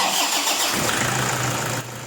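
Toyota Hilux engine with a worn drive belt cranks and catches, then settles into a steady idle, heard close and fairly loud with no talk.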